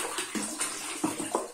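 Water being emptied out after a home experiment, a few brief splashes and gurgles close by in short separate bursts, with no voices.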